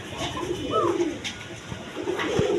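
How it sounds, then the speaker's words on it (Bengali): Quality pigeons kept for sale, including a pair of blue shirting birds, give soft, rolling coos close by, a couple of low warbling calls rising over faint background murmur. "কোয়ালিটি সম্পন্ন কবুতর দেখেন"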